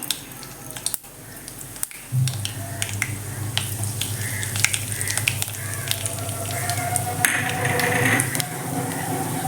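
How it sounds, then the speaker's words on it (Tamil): Mustard and fenugreek seeds dropped into hot oil in a home kitchen while making vatha kulambu, popping in sharp scattered crackles over a rising sizzle that fills the second half. "எண்ணெய் காஞ்சிச்சு கடுகு வெந்தயம் போட்டுக்கலாம்"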